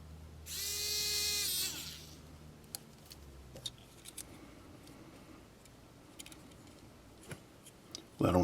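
A small drill bit spins up briefly with a high whine while boring a hole in a Kato P42 model locomotive shell, followed by quiet ticks and clicks of handling.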